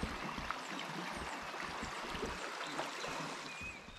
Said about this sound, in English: Own little campsite waterfall just trickling down the rocks.